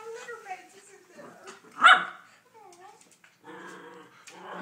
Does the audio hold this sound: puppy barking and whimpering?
yes